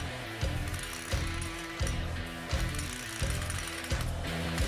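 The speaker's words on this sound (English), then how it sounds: "We're going to spin the hub until we hear a loud clutching mechanism on the axle fastener itself." An Auto-Torq axle fastener clutches as the hub and drum assembly is spun, giving a regular series of loud ratcheting clunks, about seven, at roughly even intervals.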